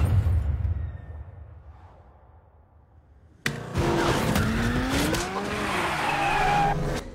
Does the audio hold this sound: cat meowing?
no